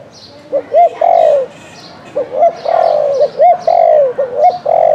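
A lure spotted dove coos in a series of close, loud, hollow notes, grouped in short repeated phrases with brief gaps between them, heard alone with no voices.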